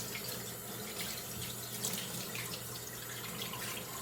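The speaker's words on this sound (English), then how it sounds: "So we're just going to rinse these off in cold water." Cold tap water pours in a steady, faint stream over cured bacon in a sink, a continuous splashing rush with no talking.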